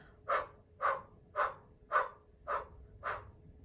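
Six sharp, rhythmic breath-of-fire breaths forced out through the nose during a Kundalini kriya, in quick even succession, close to the microphone with no talking.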